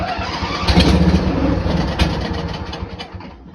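A Briggs & Stratton Intek 21 HP engine is cranked with the choke on, giving a loud, rough mechanical churn that swells near the start and then tapers off without catching.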